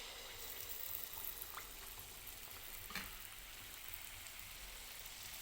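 Semolina pitha fries in hot oil in a wok with a soft, continuous bubbling sizzle, fairly faint and even, with a few small pops.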